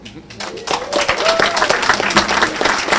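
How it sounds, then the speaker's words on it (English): Crowd applause for a speaker at a live broadcast church event, dense and steady clapping filling the whole stretch, with voices murmuring underneath. "Make some noise again for our speaker of the hour"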